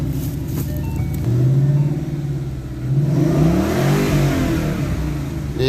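A Ford Mustang GT with a 5.0-litre V8 rated at 421 hp revs hard nearby, its deep engine note climbing and falling through repeated throttle blips, loud and steady with no talking.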